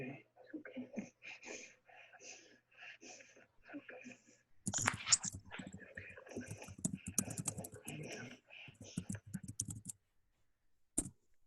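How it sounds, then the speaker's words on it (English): Someone types on a computer keyboard in rapid clusters of clicks, faint and remote, during an online pediatric assessments session, with a stretch of talk-like noise in the middle and a brief loud tap near the end. "I can hear somebody typing."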